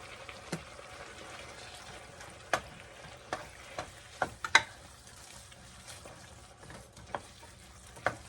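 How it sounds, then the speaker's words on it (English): Food frying in a skillet is stirred, a low steady sizzle under irregular sharp clacks and scrapes of a utensil against the pan, close up and with no voices. "All right, so I'm going to give that a good stir."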